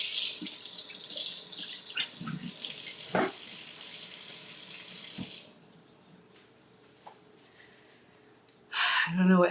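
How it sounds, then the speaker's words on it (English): A kitchen tap runs steadily and loudly while hands are washed under it, with splashing that shifts as the hands move. The flow then cuts off, leaving a quiet room, before a short final gush. "so let me wash my hands."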